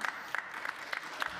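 One person claps alone at a New York City Council finance committee hearing, slow uneven claps spaced about a third of a second apart, fairly faint with a little background murmur.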